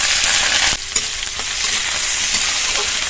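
Chopped green chilli, garlic and grated ginger hit hot white oil in a wok, a loud continuous sizzle with a sudden drop after the first moment and a few stirring knocks.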